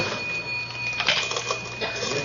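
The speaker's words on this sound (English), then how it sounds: "Let's go through the cash register." Cash register being opened and rung as a radio drama sound effect, a busy mechanical clatter of keys and a drawer with a steady ringing tone, close and fairly loud throughout.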